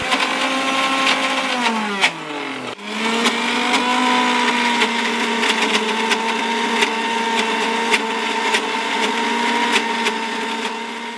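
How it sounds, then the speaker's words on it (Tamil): Mixer grinder coarsely grinding chana dal with garlic and ginger for masala vada, a loud continuous motor whine that dips and restarts briefly, then runs steadily with faint rattling. "இதையும் சேர்த்து நல்ல ஒரு கொரகொரப்பாக மசாலா வடைக்கு தேவையான கோர்ஸாக இதை நம்ம அரைச்சிப்போம்"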